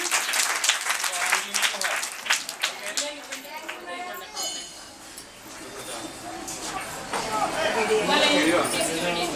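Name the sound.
group clapping for a child at a fruits day celebration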